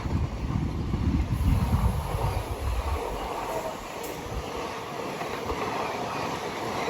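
A Nellore to Vijayawada MEMU express runs with a heavy low rumble that fades after a few seconds into steadier rolling noise and wind buffeting.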